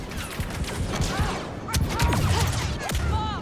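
Rapid bursts of blaster gunfire cut down stormtroopers in Star Wars Battlefront 2, a dense, continuous barrage of overlapping shots and impacts at close range.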